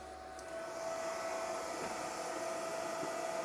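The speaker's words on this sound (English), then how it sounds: "we'll let that fan run for just a few minutes" A fan runs steadily to clear smoke from a laser engraver after cutting a rubber stamp, giving a constant loud whooshing roar with a faint steady whine, close and unbroken for a few seconds.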